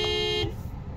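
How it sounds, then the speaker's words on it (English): Horn of a 2023 Honda Civic Sport Hatchback sounds once, a short loud close-up honk lasting under half a second before cutting off into quiet background noise. "Honk the horn."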